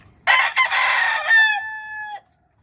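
A single rooster, kept with young hens in cages, lets out one loud, close crow lasting about two seconds, rising and then ending in a drawn-out clear tone, with near silence before and after.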